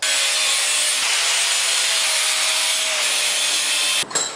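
A saw cuts a wooden piece in half with a continuous loud, close rasping whine that holds steady for about four seconds and then stops with a brief clatter.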